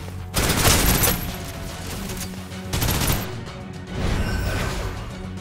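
Suppressive gunfire in the Snowbreak: Containment Zone video game comes as loud, sustained automatic bursts in three waves, dense and close, with no talking.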